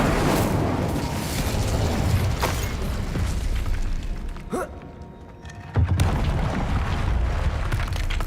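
Incendio fire spell cast in Hogwarts Legacy, a dense roaring whoosh of flame with a sharp burst near the end and a brief quieter dip just before it.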